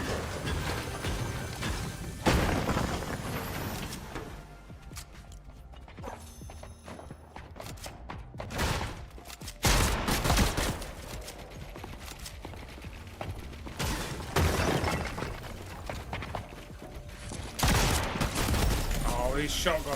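Shotgun blasts ring out in a video game, several loud broadband bursts spread irregularly across the stretch amid mechanical handling noises, with someone talking over the action.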